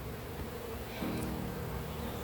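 Honeybees buzzing around an open hive during a hive split, a steady close drone of many wings under outdoor background noise, swelling slightly partway through.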